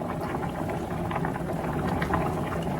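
Rice water boiling in an electric skillet, a steady dense bubbling simmer that holds at an even level throughout, close by with no voices.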